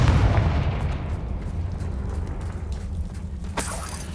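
Confringo spell explosion in Hogwarts Legacy, a loud booming detonation with rumbling low end that decays slowly, then a sharp crack near the end, no voices.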